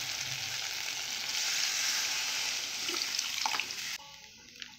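Okra curry sizzles loudly and steadily in a pan, a dense close hiss that drops abruptly in level near the end, with no talking.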